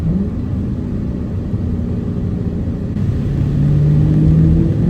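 A 2023 Dodge Challenger R/T Scat Pack Widebody Hemi V8 gives a deep, steady close rumble that swells a little toward the end as the engine note rises.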